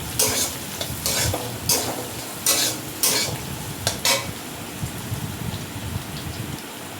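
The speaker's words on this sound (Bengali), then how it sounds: "রসুনটা দিয়ে দিলাম তেলের মধ্যে" Garlic fries in hot oil after potatoes, giving a steady close sizzle broken by several sharp scraping stirs of a spatula against the pan.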